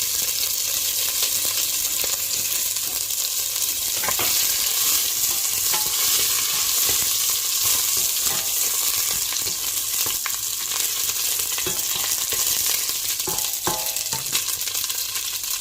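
Ginger and lemongrass sizzling in hot oil for a chicken tinola, a dense constant frying hiss with occasional spatula scrapes and clinks as the pieces are stirred around the pan.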